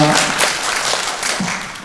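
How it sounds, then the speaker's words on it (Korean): An audience at a National Assembly suicide prevention forum and international seminar applauds to welcome a panel speaker, a brief burst of clapping with a voice talking over it. "박수로 맞이해 주시죠"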